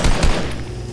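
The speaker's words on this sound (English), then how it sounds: "Why you keep shooting?" Dense bursts of gunfire in the Fortnite video game, a loud fusillade with two heavy booming hits early on, then continuing rapid shots that fade slightly over a second.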